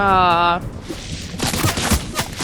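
SMG gunfire in the Fortnite video game, a rapid rattling burst of shots after a brief electronic tone, the rounds crackling close and loud in quick uneven succession.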